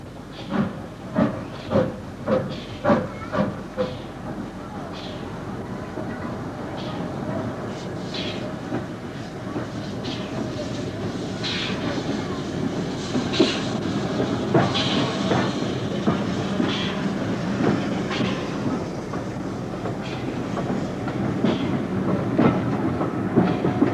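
A small Southern Railway 0-6-0 steam tank engine works a preserved line. Sharp rhythmic exhaust beats open the passage, then settle into a steady, fairly loud rumble of wheels, hiss and clanking motion.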